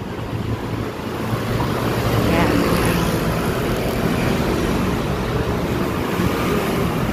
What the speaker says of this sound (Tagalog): Daming motor, ano?